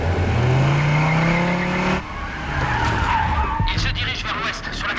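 A police car skids with a long tire squeal, then its engine revs hard as it speeds off, loud and close.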